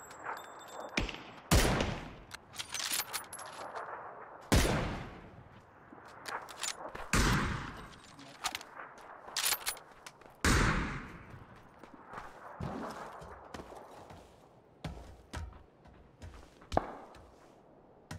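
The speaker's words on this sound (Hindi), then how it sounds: "पीछे से फायर आ रहा है मेरे" Repeated gunshots ring out in a PUBG battle, irregular sharp cracks with echoing tails, some loud and near, others fainter and more distant, spread over many seconds without talking.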